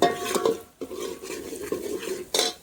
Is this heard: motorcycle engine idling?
no